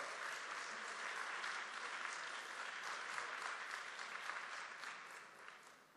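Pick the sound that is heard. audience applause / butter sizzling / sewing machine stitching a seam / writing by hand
audience applause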